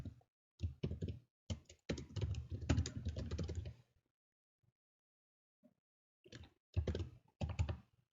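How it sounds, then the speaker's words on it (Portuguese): Someone types on a computer keyboard while writing Python code, producing quick runs of soft clicky keystrokes, a pause of about two seconds, then another short burst, quiet and close. "Eu vou digitar uma mensagem aqui."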